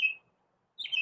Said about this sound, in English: You got him chirping up a storm there, Candace?